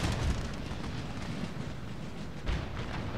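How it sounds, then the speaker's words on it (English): Cannon fire rumbles through a battle in Empire: Total War, a dense, continuous low roar of distant booms with a sharper burst near the end, no voices over it. "Cannons are doing their job"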